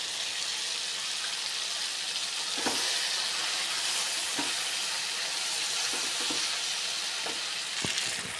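Vegetable pieces with raw mango sautéing in a pan for sambar, with chili and coriander powder added, giving a continuous loud sizzle broken by occasional scraping stirs, no voices.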